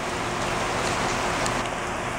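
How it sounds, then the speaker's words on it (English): Heavy pouring rain beats down steadily, with water gushing from a gutter, a dense continuous wash of sound close by with no talking. "It's pouring. It's not just raining, it is pouring. Look at it shooting out of the gutter."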